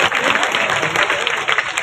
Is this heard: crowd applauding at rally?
yes